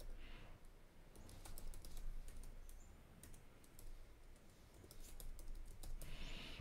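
Fingers type an email address on a laptop computer keyboard, a quiet, steady patter of light key clicks continuing throughout at close range.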